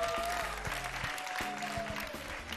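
A studio audience on a talk show claps under playing music, a busy, moderate wash of applause with steady tones and beats running beneath it throughout.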